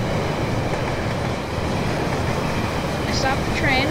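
A model train rolls on rails in the video game Rolling Line, a loud, continuous rumbling run with a faint squeal near the end.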